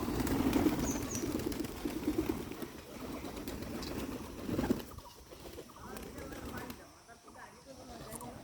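Hungry pet pigeons and their chicks, back from a morning flight, make low, murmuring coos and soft calls nearby, fading after a few seconds, with faint rustling and possible quiet voices in the background.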